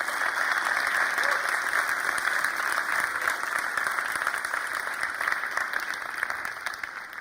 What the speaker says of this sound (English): that was applauding for you and those that are still watching right now from all over the world